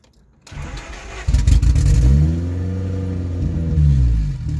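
The boosted engine of a Honda Civic EG cranks briefly, catches and starts, then revs up and settles into a loud, rough idle close by, with a rising and falling rumble.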